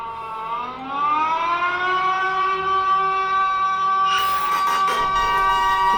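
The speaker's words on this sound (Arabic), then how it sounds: "الاسعاف عندهم حالة طوارئ" A steady, sustained ambulance siren wail in a horror video game holds a high tone throughout, loud and close, with a burst of noisier game sound joining in near the end.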